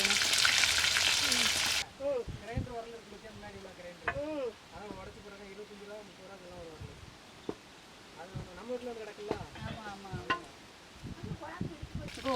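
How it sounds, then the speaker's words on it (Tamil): Hot oil sizzles and crackles steadily as quail fry, after a loud hissing rush at the start, with scattered pops and stirring noises. "எண்ணெய் சூடாயிடுச்சு. காடை பொரிக்க போகிறோம்."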